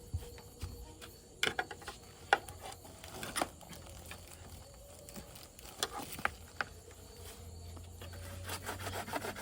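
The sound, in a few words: cutting a woven screen fence (tat)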